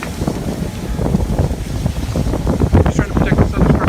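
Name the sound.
strong wind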